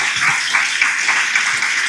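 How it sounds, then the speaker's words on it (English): A lecture audience claps for the two speakers at the close of a talk, a short burst of dense, lively applause that fills the room at an even, steady level. "Round of applause for Kristina and Jamie."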